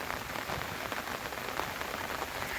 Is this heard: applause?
no